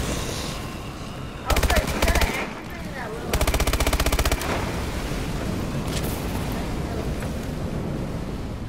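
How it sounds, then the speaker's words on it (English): Turrets fire in Call of Duty: Advanced Warfare zombies mode, two loud bursts of rapid automatic gunfire over a rumbling game background, with players talking around the shooting. "It's so awesome because you got those turrets shooting."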